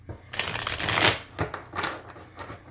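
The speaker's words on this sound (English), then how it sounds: "Let's go ahead and give it a little shuffle." Linen-finish cardstock tarot cards riffle shuffled by hand, a close, crisp burst of rapid fluttering clicks that swells and then tapers into a few shorter riffles, with no talking.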